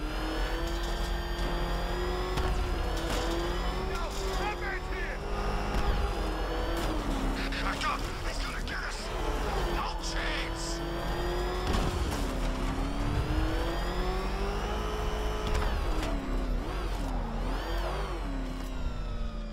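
Batmobile engine in the video game Batman Arkham Knight, droning and revving steadily throughout with pitch rising and falling as it accelerates, plus occasional skids and impacts, with voices talking over it.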